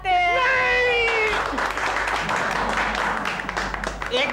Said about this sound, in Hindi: अरे आप लोग तालियां क्यों बजा रहे हैं?